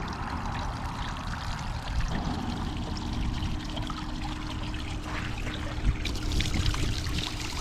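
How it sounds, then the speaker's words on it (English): Ice-cold spring water pours constantly out of a pipe near the Gates of the Mountains in Montana, a steady close splashing trickle that runs the whole time with no voices. "It's kind of weird, it's just constantly flowing out of a pipe."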